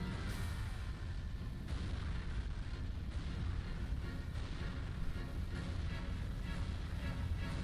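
Tanks firing in the Bullet Witch video game make a dense, continuous rumble of booming blasts that layer over one another without pause, loud and heavy at the low end.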